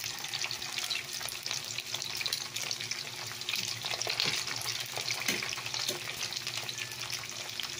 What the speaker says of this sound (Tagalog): magprito tayo ng siumay